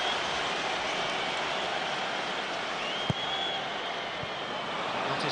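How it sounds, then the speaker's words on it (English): Stadium crowd at an England v Slovakia football match applauding as Beckham jogs across to take a corner, heard as a steady, far-off wash of clapping and crowd noise with no talk over it. "Beckham jogs across with great applause to take this corner"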